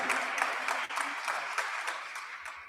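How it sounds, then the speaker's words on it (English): An audience at a Limpopo ceremony for a newly appointed provincial police commissioner applauds the Honourable Premier: continuous close, bright clapping at a fairly even level that fades slightly toward the end. "let's just another round of applause, ladies and gentlemen, to the Honorable Premier"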